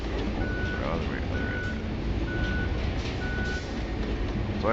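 A truck's reversing safety alarm in the Roadcraft video game sounds four evenly spaced beeps over a constant heavy engine rumble, with brief chirpy sounds mixed in.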